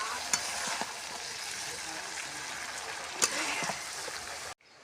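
Curry fries with dried chili powder and ground green chili, a close, steady sizzle with occasional spatula scrapes against the pan before it cuts off abruptly.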